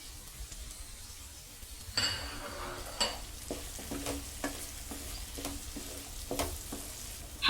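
Chana chaat masala being mixed with fresh coriander in a pan: quiet low frying sizzle under a series of soft spoon scrapes and light metallic clinks against the pan, spaced irregularly, with one sharper knock at the end and no talking.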